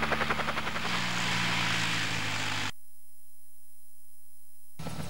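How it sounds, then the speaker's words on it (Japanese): A helicopter lifts off in the PlayStation game Resident Evil Director's Cut, its loud rotor chop and engine whine roaring steadily for a few seconds before cutting abruptly to near silence. "ブラッドのヘリが飛び立ちます"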